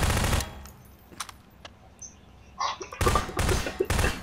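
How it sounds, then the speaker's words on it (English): Bursts of gunshots in Garry's Mod Prop Hunt: a loud volley at the start, scattered quieter shots and small game effects, then another sustained rapid burst of fire in the last second and a half. "I honestly hear shots"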